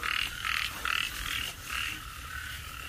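Frogs croak beside a lathe workshop in a loud, pulsing chorus of repeated croaks, close and continuous over a low background rumble, with no voices.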